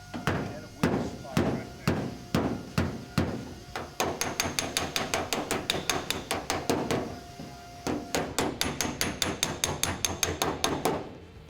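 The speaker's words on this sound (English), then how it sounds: "finish it up with a hammer and dolly" Repeated sharp metallic hammer strikes of a hammer and dolly on car body sheet metal, steady and rhythmic, with faster bursts of blows, close and loud.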